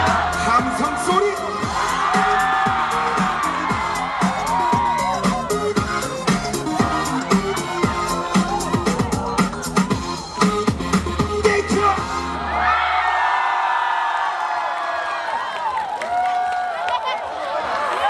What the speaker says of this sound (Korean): 함성 소리